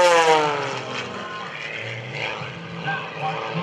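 An aerobatic propeller airplane in an outside knife-edge spin at an airshow drones loudly overhead, its engine pitch sliding downward as it descends, steady and continuous throughout.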